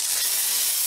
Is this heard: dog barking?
no